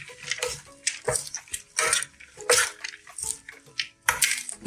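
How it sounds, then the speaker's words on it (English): Pesto chicken salad being mixed in a bowl with salt and pepper, heard as a loose run of scraping, clinking and wet tossing sounds in short uneven bursts, close and moderately loud with no talk. "Give it a good mix."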